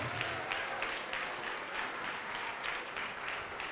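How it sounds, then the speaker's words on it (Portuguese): A church congregation applauds steadily, a dense wash of clapping that holds its level throughout, heard from a moderate distance in a large room. "Vamos aplaudir mais ao nome de Jesus."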